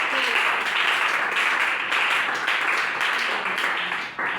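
A church congregation bursts into steady, dense applause to acclaim the Lord, with many hands clapping continuously at a lively level before tapering slightly at the end.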